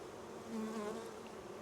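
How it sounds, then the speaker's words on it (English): Honey bees hum in a steady, close buzz at an open hive box in a queen split, a soft continuous drone that swells briefly. "Oh, big pile of bees there."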